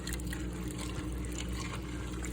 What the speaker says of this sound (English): about 8 cups of water is going to be added